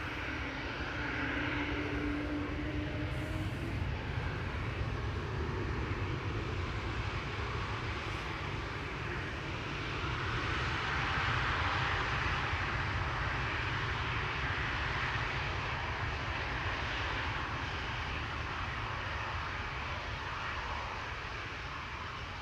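A jet departs Amsterdam Schiphol, its engines giving a continuous broad roar that swells around the middle and fades slightly toward the end, heard from a distance.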